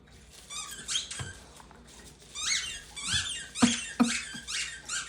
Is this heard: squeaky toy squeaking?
yes